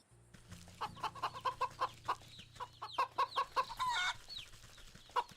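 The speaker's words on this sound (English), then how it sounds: "Where's chickens? Do we get some eggs?" Chickens cluck in the video game Wytchwood, a quick rhythmic run of close, clear clucks over a low steady hum, with a denser burst of calls near the end.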